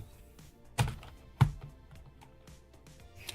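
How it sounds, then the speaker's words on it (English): Two sharp clacky keycap presses on a Victrix Pro KO ringed gaming pad, close and fairly loud against a quiet background, with a few fainter taps after them. "The way these keycaps and rings are designed, they're a little bit clacky."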